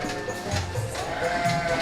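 A Garut sheep bleats on a farm among pregnant ewes, giving a loud, wavering bleat and then a second one close by over a busy barn background.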